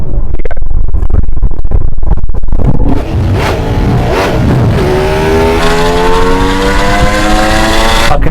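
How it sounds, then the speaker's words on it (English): A Fiat car roars loudly up close, then accelerates and shifts down through the gears, with rising engine notes sweeping upward as the revs climb. "I can hear him changing down."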